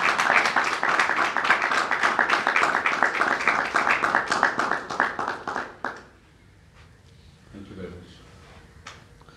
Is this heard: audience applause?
yes